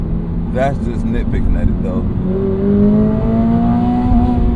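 A 2025 Toyota GR86 Hakone Edition engine revs up toward redline and hits an abrupt rev-limiter cut, with a rising tone heard loud and close under someone talking.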